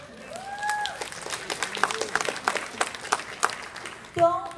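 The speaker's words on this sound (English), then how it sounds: "Give yourself applause." Scattered audience clapping at a business leadership meeting in Dallas builds into a short round of applause, with a voice heard briefly before and after.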